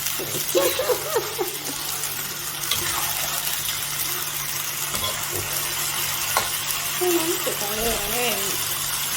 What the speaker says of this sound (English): We want it a bit dry, so okay, we keep stirring it gently.